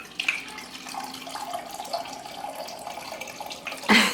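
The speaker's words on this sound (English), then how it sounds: "We're gonna add 2 cups of wine." White wine is poured into a pot of mussels, a light continuous splashing trickle that ends with a brief louder splash at the close.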